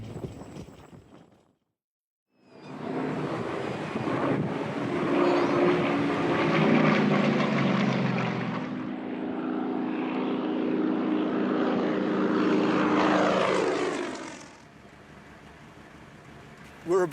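A propeller stunt plane at Watervale Airport, Central Coast Aero Club, roars past after a brief silence, its engine drone rising loud and close, holding, then fading away.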